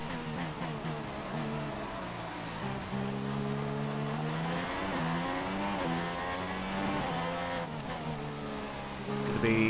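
A Formula 1 car in the F1 2016 racing game runs onto gravel and struggles to turn in, its engine whining and shifting pitch through gear changes under a continuous rough crunch, ending with a louder swell.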